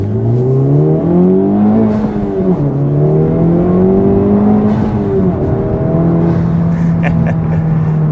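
A Honda Civic Type R with a full aftermarket exhaust drones loudly from inside the cabin as it accelerates, fake engine sound off, pitch climbing through the gears with brief dips at each shift.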